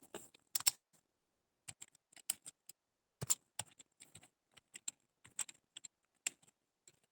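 Keys clattering on a computer keyboard while entering data into an Excel bill: irregular bursts of crisp, close keystrokes separated by brief pauses, with no talking.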